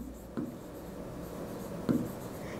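A pen writes by hand on paper while working a maths problem, a faint steady scratching with a couple of brief taps, quiet and close with no talk.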